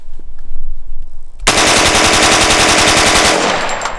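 A UMP45 submachine gun firing one loud, sustained burst of rapid, evenly spaced automatic shots that lasts about two seconds after a short quiet lead-in.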